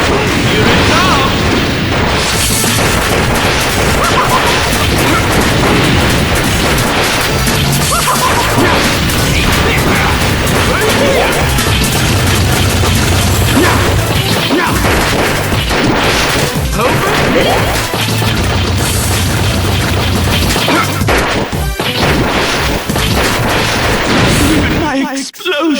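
Explosions and combat effects from the game Mega Man Maverick Hunter X burst in dense, loud succession over music, with repeated crashes and booms filling nearly half a minute.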